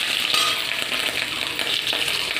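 Green and red chillies with curry leaves sizzle steadily in hot tempering oil that already holds mustard seeds, a continuous close frying hiss with small crackles throughout and no voices.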